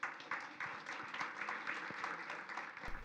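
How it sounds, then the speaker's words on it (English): An audience applauds after an evening panel presentation, a steady wash of clapping heard from some distance and fairly faint throughout. "Round of applause to yourself"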